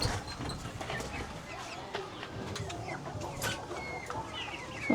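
Several Brahma chickens cluck and chatter at close range, steady and busy throughout, with scattered brief calls over a low background hum.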